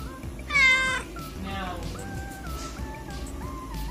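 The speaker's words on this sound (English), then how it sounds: "And we got Kitty here." A pregnant female cat meows a few times, with one loud meow near the start and softer mews after it, all over low background chatter and room noise.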